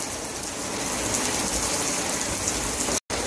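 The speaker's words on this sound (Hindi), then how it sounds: "देखो दोस्तों और तेज बारिश स्टार्ट हो गई" Heavy rain pours down in a dense, constant hiss of water with no pauses until a brief cut near the end, loud and close with no talking.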